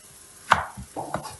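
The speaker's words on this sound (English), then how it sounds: "And the courgette, I'm going to just cut the courgette in half" Knife cutting a courgette in half on a board, a sharp thunk followed by a couple of softer knocks within about a second, close and alone.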